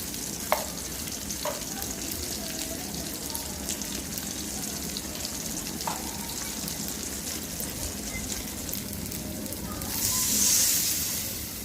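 Salt, turmeric and chili powder frying in a pan for egg curry, a continuous close sizzle with a few soft stirring knocks and a brief louder hiss near the end, no speech.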